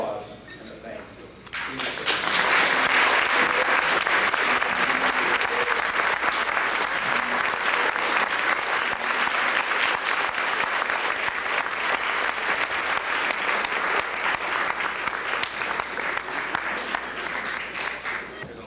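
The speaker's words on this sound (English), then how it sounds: "To stand for a well-deserved round of applause and a thank you." A large audience at a JCC ceremony breaks into a long, steady round of applause after a brief spoken introduction, the clapping dense and sustained for over fifteen seconds.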